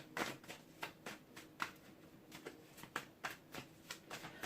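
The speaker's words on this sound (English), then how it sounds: "I'm going to have to get, if there's no such thing as a shuffle machine" Tarot cards are shuffled in quick repeated riffles, a steady papery flutter with soft snaps, fairly quiet and close, with no talking.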